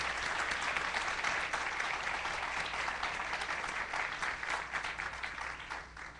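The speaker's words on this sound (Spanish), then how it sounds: "un aplauso por favor para nuestros invitados" Audience applause for guests at a public conversation event, continuous, even clapping from a crowd that stays at a steady level the whole time.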